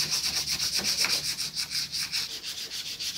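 Rhythmic back-and-forth sanding of a wooden kitchen corner cabinet joint with 180-grit wet sandpaper, close and steady, about five strokes per second with no voices.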